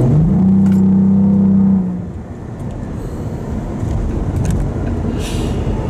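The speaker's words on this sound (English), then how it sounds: "It's aggressive. It sounds like a V8." Engine of a 2022 Cadillac CT4-V Blackwing revving with a loud, deep rumble and a rising then falling pitch, settling into a lower steady growl.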